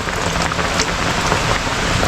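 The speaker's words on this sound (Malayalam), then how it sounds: "ഇതുപോലെ മഴ പെയ്യുവാണെങ്കിൽ" Heavy rain pours down steadily, a dense, loud hiss of drops drumming on a surface, with no voices.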